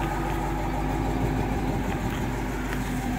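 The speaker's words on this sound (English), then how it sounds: "Car has a real nice exhaust note." A 2011 Dodge Challenger R/T sits idling, its exhaust giving a steady, low, rumbling burble with no change in pace throughout.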